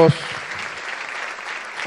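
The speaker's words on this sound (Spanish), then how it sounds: "Juan Marchena Fernández, para quien pido fuerte aplauso" A crowd gives a brief burst of applause at a national history prize ceremony honoring historian Juan Marchena Fernández. The clapping is fairly faint and steady, with bits of voice at the start and end.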